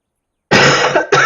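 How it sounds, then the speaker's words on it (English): A single close, loud cough bursts out after half a second of silence, followed by a second shorter cough. "yes, I'm still coughing."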